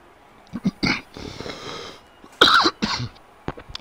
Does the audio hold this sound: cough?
yes